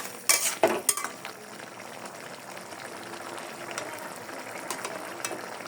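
Chickpea dal with jackfruit is stir-fried in a pan, with a few loud scraping strokes of a spoon at the start and then a soft bubbling sizzle with light stirring clinks.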